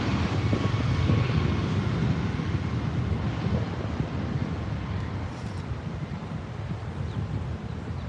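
A jet aircraft roars at LAX airport, a steady broad engine rush that fades gradually, mixed with wind buffeting the microphone.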